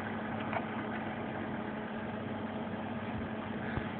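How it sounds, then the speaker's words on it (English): A homemade air conditioner built from a modified dehumidifier runs with a steady mid-pitched compressor hum and even fan whir, constant and fairly close, with no talking. "I'm going to show you my homemade air conditioner out of a dehumidifier."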